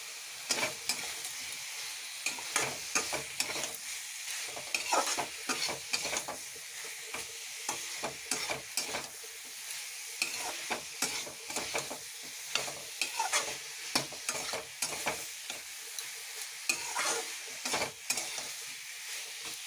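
Fried potatoes and boiled radish are stirred in spices in a hot pan, with a steady loud sizzle broken by repeated scraping strokes of the spoon over about twenty seconds, no voices.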